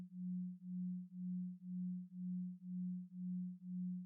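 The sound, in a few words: binaural tones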